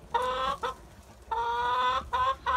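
Hens cluck in repeated loud, harmonic bursts close by in a backyard flock, with short pauses between calls and no talking.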